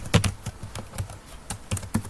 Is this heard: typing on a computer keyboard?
yes